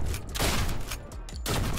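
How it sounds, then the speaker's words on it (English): In a video game, a shotgun blasts at destructible walls, sending out a few loud, booming shots in quick succession with crumbling debris noise between them. "let's test it out with a shotgun real quick."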